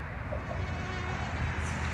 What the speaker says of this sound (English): Mosquitoes thrive in the summer.